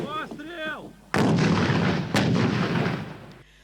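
A speaking voice, then a sudden loud blast from an American M72 anti-tank grenade launcher followed by a second sharp report about a second later, each with a long rumbling tail.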